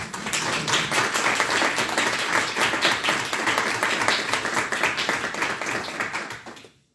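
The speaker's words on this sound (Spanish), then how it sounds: "Vas a aplaudir, ¿no?" Audience at an award ceremony for young mathematics research prizes applauds steadily, a dense and even wash of many clapping hands that holds for about six seconds and then fades out.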